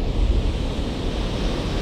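Seaside wind buffeting a microphone on a beach beside a windbreak, a loud continuous roar with surf-like rumble and no voices.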